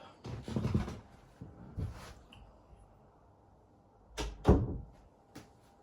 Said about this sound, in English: I'm going to shut my door to my workshop.